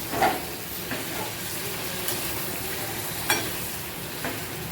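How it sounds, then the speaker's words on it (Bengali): Fried potato and paneer pieces are stirred into a sizzling spice masala in a pan, a steady close frying hiss broken by a few light scraping clicks from the spoon. "এই ভেজে তুলে রাখা আলু আর পনিরটা দিয়ে দেবে আমি দিয়ে দিলাম দিয়ে ভালো করে মশলার সঙ্গে মিশিয়ে নিতে হবে নেড়ে"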